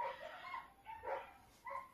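Two adult dogs, a male and a female, bark in short bursts outdoors at a moderate distance, with yelping and whimpering tones between the barks.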